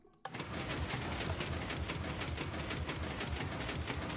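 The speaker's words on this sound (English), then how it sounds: "Special type of slime block elevator." A Minecraft slime block elevator running, starting with a sudden thump and then a dense, rapid mechanical clatter of pistons and blocks that repeats steadily and evenly for about four seconds.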